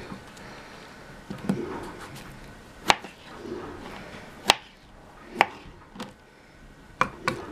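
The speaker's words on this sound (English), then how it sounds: "we're going to cut it into pieces" A knife cuts peeled fruit into pieces on a cutting board, giving sharp isolated chopping knocks spaced a second or so apart over soft background rustle, close and fairly quiet.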